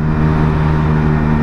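A Kuba Bluberry motorcycle engine fitted with an Akrapovic exhaust and silencer runs at a steady, close, low idle, a constant humming drone with no change in pitch.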